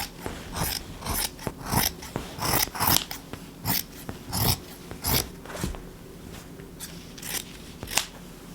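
Scissors snip repeatedly through fabric while dress pieces are cut out, a steady run of short, close crisp cuts with brief pauses between them.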